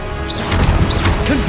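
A Confringo blasting spell in Hogwarts Legacy, heard as a short, loud crashing burst with a whooshing tail, close and brief.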